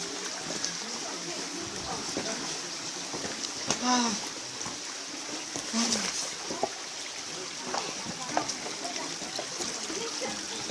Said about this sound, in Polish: O, kolejny mały strumyczek.